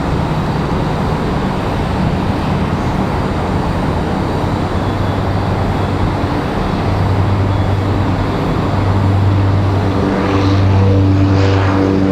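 A small aircraft departs Raleigh-Durham International Airport, a loud continuous engine and propeller drone with a steady low hum that swells slightly toward the end as it climbs out, no voices.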